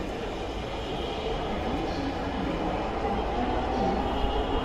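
A metro train at Pallabi metro station platform gives off a steady, loud rumble that holds evenly from start to finish.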